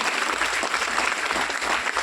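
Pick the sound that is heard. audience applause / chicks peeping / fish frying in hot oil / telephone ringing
audience applause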